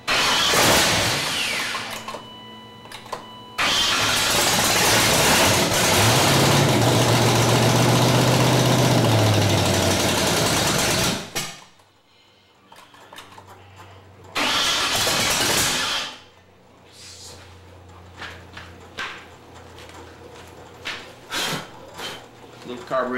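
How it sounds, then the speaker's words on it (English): Ford Mustang 5.0 V8 swapped into a BMW E36, cranking and catching into a loud, rough idle up close, then cutting out and briefly firing again, with a short burst of talk in a quieter stretch. "Fuel pump on. Couple pumps. Turn the ignition on."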